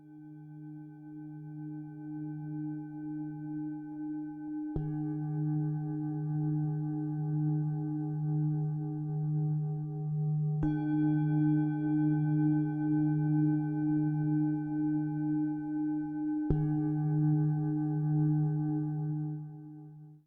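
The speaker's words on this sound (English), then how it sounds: "So it's the sound of a gong" Two gongs struck in turn, each hit blooming into a long, soft, wavering hum that swells and fades, with fresh strikes spaced several seconds apart and no voices over them.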